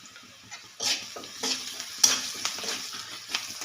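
Onions fry in a pan as salt and turmeric powder are added, a gentle sizzle broken by scraping spatula strokes and light clinks of the utensil, close and uneven.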